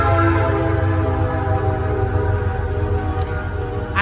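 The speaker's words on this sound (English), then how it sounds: "That's the train, y'all" A train passes close by, its steady low rumble and droning horn-like tones filling the scene continuously, with a brief sharp burst of noise near the end.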